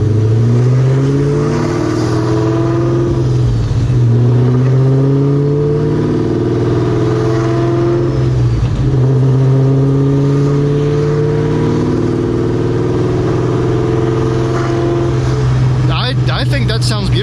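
Terminator Cobra with a Borla Atak exhaust, driven gently, gives a loud, steady low exhaust drone with rising and falling pitch sweeps, heard close from inside the car.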